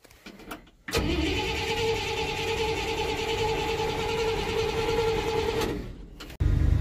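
An old carbureted engine on a 1960s Buick or Dodge cranks with a brief starter whir, then catches and settles into a loud, steady idle for several seconds before cutting briefly and roaring again.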